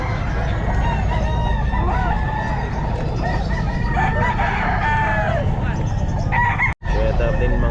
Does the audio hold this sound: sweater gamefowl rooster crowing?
yes